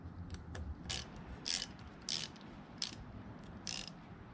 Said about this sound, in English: And then tightening last little bolt.